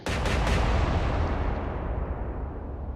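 Naval guns fire in the warship video game Atlantic Fleet, a loud, heavy boom that hits at once and rolls on as a dense, rumbling roar for several seconds, with a few sharper cracks near the start.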